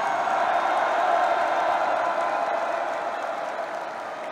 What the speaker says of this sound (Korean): 다시 한번 여러분의 우렁찬 박수와 함성을 질러주시기 바랍니다